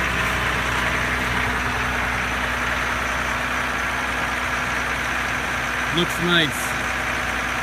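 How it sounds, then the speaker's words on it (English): A 2015 Ram 1500 EcoDiesel pickup idles after a cold start in the dark, a steady low engine drone running unbroken throughout, with a short spoken comment near the end. "Listen to the engine."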